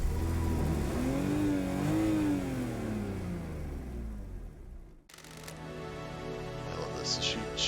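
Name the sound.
car engine revving in the video game Paradise Killer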